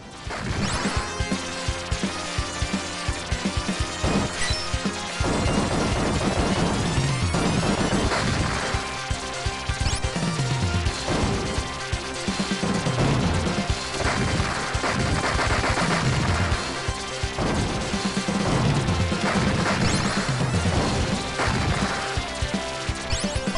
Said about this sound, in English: Sound effect defender mutant shooting at you.